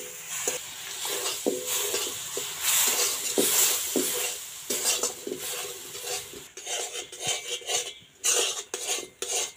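Semolina with sugar and milk being stirred in a pan, with spoon scrapes and metallic clinks against the pan repeating in an uneven rhythm, close and fairly loud.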